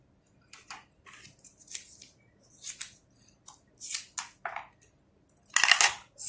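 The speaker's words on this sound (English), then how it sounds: "you can just take a small piece and cut it" Small scissors snip a small piece of double-sided tape in several separate close, crisp cuts with short pauses between them, the last cut loudest, with no voices.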